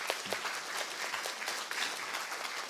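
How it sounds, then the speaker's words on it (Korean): Audience applause at the farewell ceremony of a Catholic university president, a steady crowd clapping throughout, moderately loud with no talk over it. "그분께 박수 한번 드릴게요."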